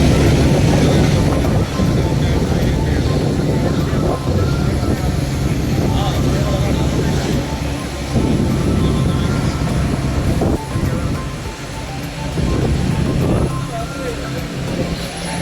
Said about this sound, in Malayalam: Air India express.